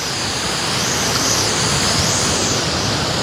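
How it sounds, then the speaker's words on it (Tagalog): Floodwater rushing through open gates on the Pasig Potrero river in Minalin, Pampanga, a loud, continuous broadband roar with no breaks, close and alone. "Mas malakas yung ragasada sa may dulo."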